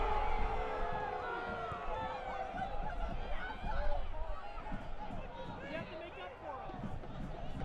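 A restless stadium crowd at a soccer match in Arizona fills the air with a constant, distant roar of murmuring and shouts, swelling slightly midway, with no clear voices standing out.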